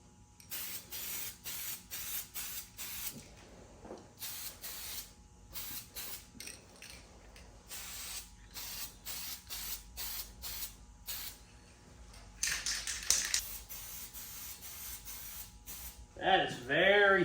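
Spray paint goes onto a Honda CRX in light coats: repeated short hissing bursts of aerosol, separated by pauses and close to the microphone, followed by a longer spray, with brief talk near the end.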